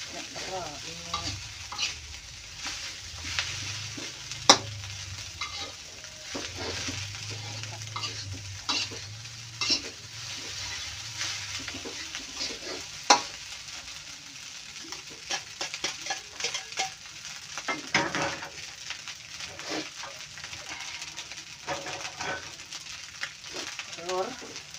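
Javanese fried rice sizzles and fries in a pan while a utensil stirs and scrapes through it steadily, with occasional sharper clinks against the metal, close and continuous throughout.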